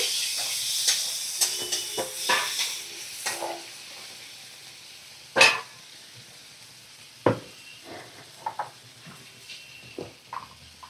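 Sliced medium onion drops into hot oil with cardamom, cloves and cinnamon and sizzles softly, broken by sharp clinks and scrapes of stirring. No voices are heard.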